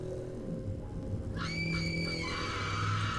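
A shrill scream sound effect rises in a horror edit, a high sustained shriek lasting about a second over a low steady musical drone and static bed.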